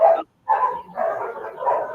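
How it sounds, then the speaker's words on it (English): A dog barks in a few loud, close bursts with short gaps between them, standing alone without talk over it. "that's not my dog."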